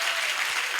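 Audience applause at a Hanuman temple gathering, a short, dense burst of clapping from a crowd at a steady level.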